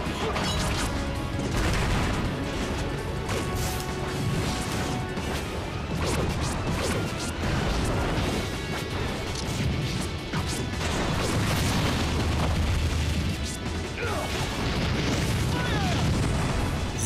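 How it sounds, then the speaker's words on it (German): Bomb explosion in the Nintendo fighting game Super Smash Bros. Brawl, heard amid a loud, dense, continuous wash of game effects, crashes and music that lasts throughout, with no clearly separate single blast standing out. "Ey, sie latscht sich selbst in die Bombe rein."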